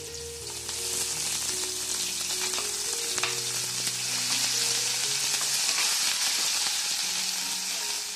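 Onion frying in hot oil with cumin, garlic, ginger and curry leaves, a dense continuous sizzle that holds steady and close throughout, with a faint low tonal hum underneath and no voices.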